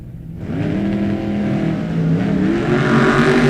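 A red Oldsmobile drag racing car accelerates hard down the strip, its engine rising in pitch and growing louder as it pulls away, one continuous loud roar.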